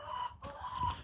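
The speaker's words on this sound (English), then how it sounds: "All these dang chickens" Chickens clucking close by in a quick burst of short, squawking calls, loud and alone with no talk.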